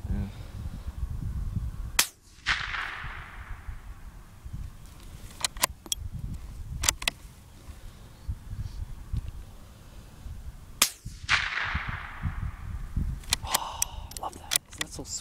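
Several sharp shots from a Norinco JW-15 bolt-action rifle fired outdoors, with two loud reports and a few smaller cracks spread over the stretch, over steady low background rumble and some talk.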